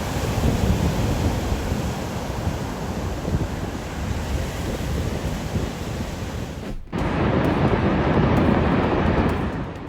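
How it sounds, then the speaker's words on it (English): Heavy ocean waves surge and roar around a fishing boat working through rough seas, a continuous loud wash of surf with wind buffeting the microphone, briefly dipping before swelling back. "A fishing boat pushes through rough seas, continuing its work despite heavy waves and unstable conditions."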